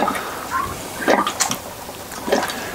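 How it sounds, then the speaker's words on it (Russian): Water bubbles and gurgles in a few short irregular bursts as it flows into a poultry drinker for turkey chicks, fairly close and moderate in level, with no talking. "сейчас как раз булькает, идет активное поступление воды поилку"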